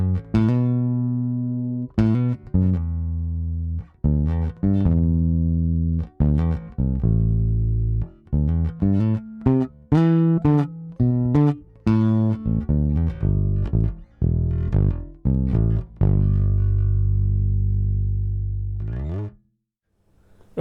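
A bass guitar played directly into a Focusrite Scarlett 18i20 instrument input, with a steady stream of plucked, rhythmic notes ringing close and dry, dropping out into near silence just before the end, with no talking.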